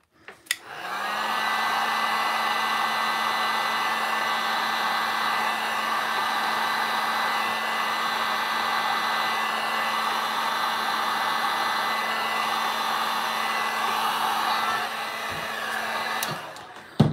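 A heat gun on its low setting blows across poured resin in a wine glass, a steady, close, whooshing hum with a faint whine that runs unbroken for about fifteen seconds before cutting off.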